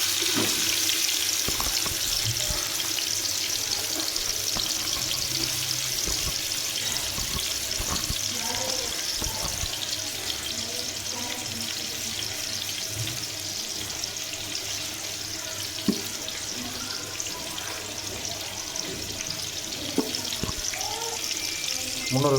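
Chopped medium onions sizzle in hot groundnut oil in a pan, a steady frying hiss like running water, with occasional stirring clatter over about twenty seconds and no talk.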